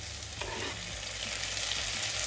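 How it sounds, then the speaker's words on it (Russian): Peppers with freshly added tomatoes fry in a pan, giving a dense, even sizzle at close range. A brief stir or clatter comes near the start. "Теперь добавляем томаты."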